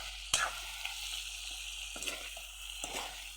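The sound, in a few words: duck meat frying in oil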